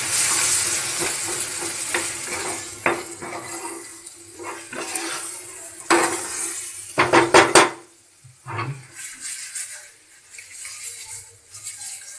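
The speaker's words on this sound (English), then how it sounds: "Now it's time I put in my fish, all of it inside. Again, give it a quick mix." Fish stirred into a spiced fish cutlet mixture in a pan makes scraping and clattering strokes with a soft sizzle underneath, picking up in a cluster of quick scrapes toward the end.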